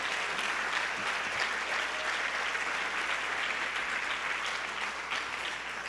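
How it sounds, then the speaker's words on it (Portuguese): Congregation applauding during a sermon, dense sustained clapping filling the room at a steady loud level throughout, with a faint low hum beneath it. "Pode aplaudir, pode aplaudir,"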